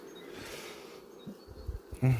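A soft, steady insect buzz of honey bees in a queenless hive hums close by, with a few faint bumps and knocks near the end.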